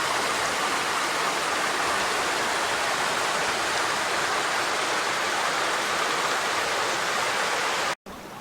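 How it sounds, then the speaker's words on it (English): Steady rushing water running underneath rocks, a broad continuous hiss like a nearby stream, unbroken throughout with a brief dropout near the end. "you can hear that the water's underneath the rocks down there"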